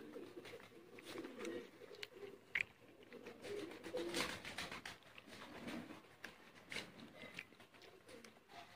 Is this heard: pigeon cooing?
yes